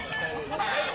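A rooster gamecock for sale at a market in North Cebu clucks close by in a short, throaty burst, with faint background noise and a hint of voices around it.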